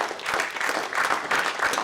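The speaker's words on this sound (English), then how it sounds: "I don't know that we gave Martin a round of applause for his." Audience applause for Martin at a roundtable meeting, a steady wash of many hands clapping at moderate level throughout, fairly dense and even.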